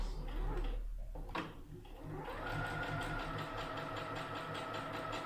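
A sewing machine stitches fabric for a beginner's gathered skirt, starting with a brief back stitch and then settling into a steady, close, rapid mechanical whir after a couple of short starts.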